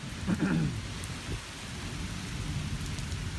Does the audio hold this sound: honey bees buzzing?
no